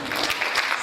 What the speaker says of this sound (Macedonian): да ја поздравиме со еден аплауз